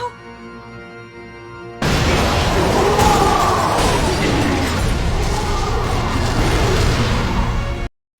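A spaceship blows up in an animated show: a sudden loud, sustained roaring blast kicks in after a quiet tonal hum and rumbles for about six seconds before cutting off abruptly.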